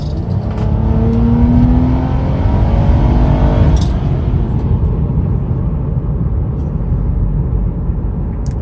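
A 2006 Nissan Maxima accelerating hard at full throttle from a rolling start, a loud sustained engine roar with rising pitch that drops at a gear shift, then continues steadily, heard from inside the car.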